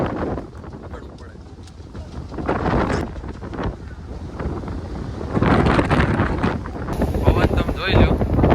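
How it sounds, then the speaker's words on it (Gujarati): Strong wind roars and buffets across the open deck of a RoRo ferry in loud, gusting waves that swell and ease, with someone speaking amid the blustering noise. "પવન તમે જોઈ લો, અવાજ અને પવન જો કેટલો પવન છે"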